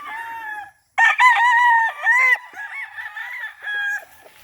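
A rooster on a backyard farm crows loudly and close by in a long, wavering call, followed by softer clucking and shorter vocal bursts; the bird sounds alone, without talk.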